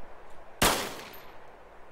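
A single sharp, loud gunshot cracks out in a video game match near an airfield, its burst decaying quickly into quiet background hiss.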